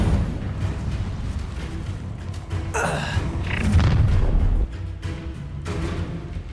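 Incendio fire spell cast during combat in Hogwarts Legacy, a burst of whooshing flame and crackling bursts that swell around the middle, then fade into a dense game soundscape.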